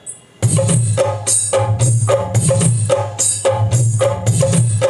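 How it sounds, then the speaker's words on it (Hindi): A steady looped rhythm of jingling ghungroo ankle bell hits with a low thumping pulse underneath, loud and continuous after a brief quiet start. "ये देखिए घुंघरू का है, यहाँ से रिदम आएगा।"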